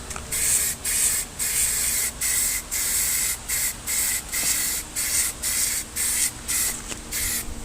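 Bursts of spray paint hiss onto a square-body 1976 Chevrolet crew cab truck door panel in a driveway, a light dusting coat applied in a steady rhythm of short, even passes, close and alone.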